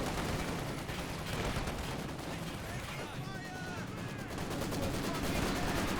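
Maxim machine gun fire in the Company of Heroes strategy game, dense continuous rattling bursts amid a constant wash of battle noise, with a voice speaking over the din.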